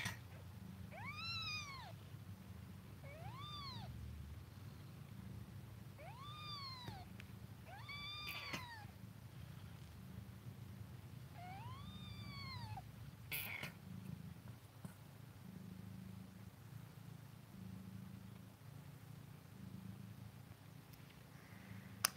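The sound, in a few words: cat purring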